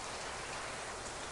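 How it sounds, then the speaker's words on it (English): A steady rain shower in Florida, heard as a continuous, even hiss of drops falling on surfaces, faint and uniform throughout with no voices. "Oh, rain's almost done."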